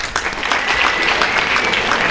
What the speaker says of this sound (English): So for that, applause to you.